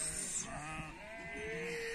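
Sheep bleat at a village farm at milking time, a few wavering calls close by over a steady background hum, with no voices.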